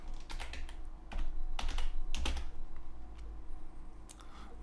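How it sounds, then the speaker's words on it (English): Fingers tapping a computer keyboard while text is entered into a table in Dreamweaver, a close run of light, irregular clicks with short pauses between clusters of keystrokes. "I type in table 1 just so that you see how it works."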